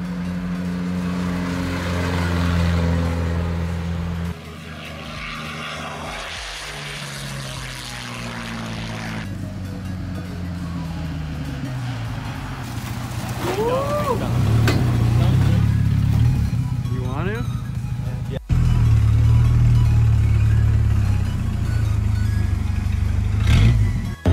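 A Ford Ranger convertible truck drives along, its engine rumbling low and shifting through revs, with brief rising whines and a jump in loudness near the end, while people talk and cheer over it.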